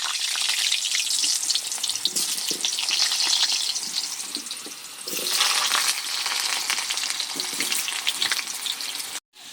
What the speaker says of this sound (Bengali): কড়া বসিয়ে তেল দিয়ে গরম করে নিয়েছি, আলু দিয়ে দিচ্ছি।